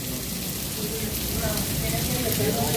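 Rain falling outdoors at Epcot: a steady, dense patter and hiss, fairly close and even, with faint voices mixed underneath.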